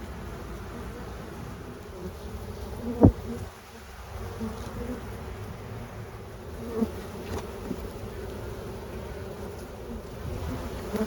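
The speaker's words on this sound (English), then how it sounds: "The hive is a little loud." Honey bees humming loudly in an open hive during an inspection of a swarm: a dense, steady drone close to the ear, with one sharp knock near the start and a few faint handling noises.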